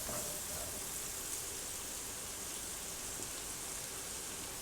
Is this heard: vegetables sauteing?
yes